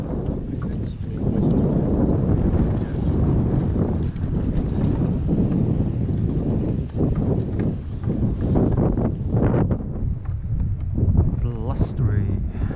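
Strong, gusty wind buffeting an outdoor microphone at an event in Ely, a loud continuous rumbling roar that rises and falls, with voices mixed in.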